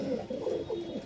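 Pigeons at a sale of Shahjahanpuri, desi Madras and giribaz birds give several throaty coos in quick succession, close and clear over a quiet background.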